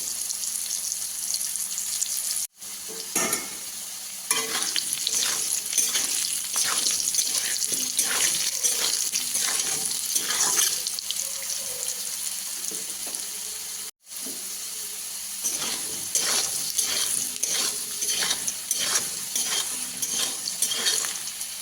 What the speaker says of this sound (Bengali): আলুটা একটু লাল লাল করে ভাজা হয়ে গেছে